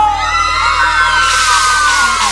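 A crowd of girls at a live concert screams and shrieks together in a loud, sustained roar lasting a couple of seconds, with amplified stage sound beneath it.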